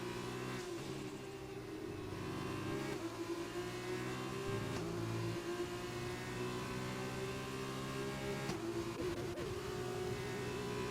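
A Formula 2 race car engine in a racing video game at the British GP holds a steady high-pitched whine at high revs, with a couple of brief throttle lifts and pickups, loud and continuous with no talk.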